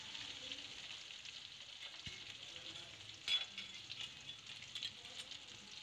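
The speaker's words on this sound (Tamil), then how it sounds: "வெங்காயம் நல்லா பொன்னிறமாக வர வரைக்கும் நல்லா வதக்கி விட்டுக்கலாம்." Steady sizzling of onions sautéing in a pan, a constant crackling hiss with a few small clatters and stirring sounds, no voices.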